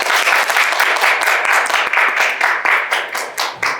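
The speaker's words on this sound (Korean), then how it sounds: "큰 박수 부탁드리겠습니다." A conference audience applauds a Korea University economics professor introduced as a panelist at a greenhouse gas reduction forum: dense, sustained clapping from many hands, loud and close, tapering in bursts toward the end.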